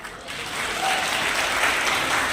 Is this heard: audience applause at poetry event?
yes